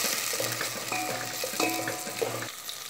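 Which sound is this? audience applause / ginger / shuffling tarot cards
ginger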